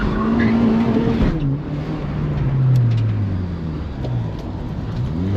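A Honda Fit on an autocross course accelerates hard, its engine droning loud and close with pitch climbing and dropping through gear changes and throttle shifts, with some tire noise.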